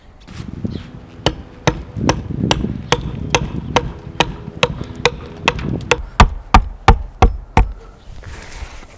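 Adze chopping into wood while hollowing the inside of a wooden bowl, a steady series of sharp, close, evenly spaced thwacks, about twenty strikes with no talking.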